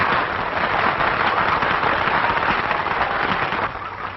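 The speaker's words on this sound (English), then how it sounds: "They're applauding the hussy." Dense, steady applause from an audience greeting a composer and the woman who inspired his song, loud and continuous throughout, easing slightly in the final moments.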